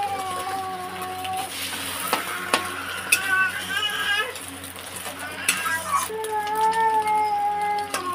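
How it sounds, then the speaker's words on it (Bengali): An egg fries in oil with salt in a pan, giving a steady soft sizzle with occasional scraping clicks as it is turned, while a voice talks over it throughout. "তেল দিয়ে ডিমটা ভেজে নেব।"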